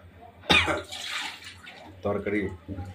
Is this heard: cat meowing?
no